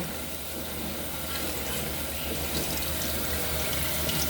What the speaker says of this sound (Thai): เอาแล้วก็มาล้างน้ำเย็นนะคะ